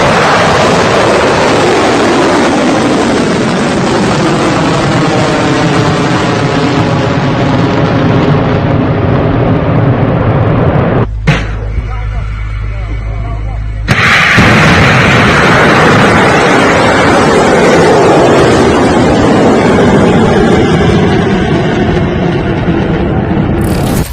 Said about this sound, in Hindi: यमन ने जब दर्जनों मिसाइलें दागी थी जवाबी कार्रवाई में